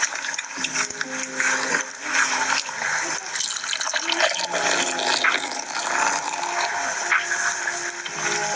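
Beer pours fast and splashes into a glass in a simulation game, a busy continuous gush of liquid lasting several seconds with a few small clinks.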